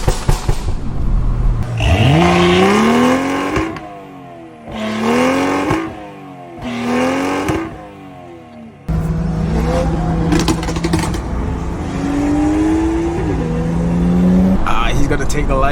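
A BMW 340i engine revs hard several times up close, the pitch climbing with each blip before dropping back, then a longer, sustained rev rises toward the end.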